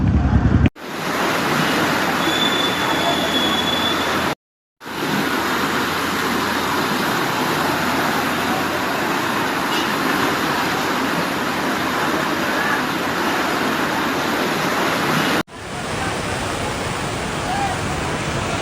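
Steady, loud rushing flood water from an overflowing river roars without pause during a typhoon, broken by two brief cuts in the recording.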